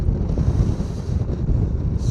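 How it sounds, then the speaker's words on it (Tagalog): Strong wind buffets the microphone during an ADV160 scooter ride, a loud continuous roaring rush with gusty swells throughout, no talk over it. "Ang lakas ng hangin dito."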